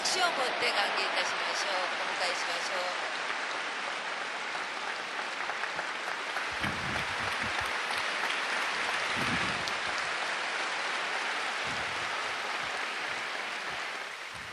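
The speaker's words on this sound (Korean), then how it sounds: "할렐루야로 박수로 맞이하겠습니다" Sustained applause from a large church congregation welcoming a speaker, steady and fairly loud throughout, with a few voices mixed into the clapping.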